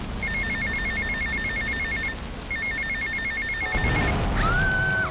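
Payphone ringing in Grand Theft Auto Vice City, two bursts of rapid electronic trilling ring, then a rumble and a rising tone at the end.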